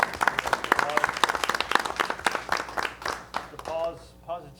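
An audience at a school district board meeting claps steadily for a few seconds, then the applause fades and a voice speaks briefly.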